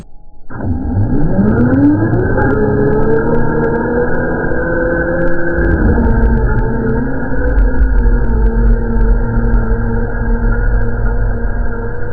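A 1/6-scale Losi 8ight RC car, freshly tuned with adjusted turnbuckles and tires, revs up sharply and then holds a loud, close motor whine. The pitch climbs, dips around midway, and carries on steadily to the end.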